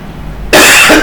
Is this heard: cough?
yes